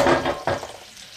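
Eggless French toast dipped in sugar and cinnamon frying in a pan, a close, steady sizzle that stays loud at first, then surges briefly with a fresh crackle before settling into a softer, fading fry.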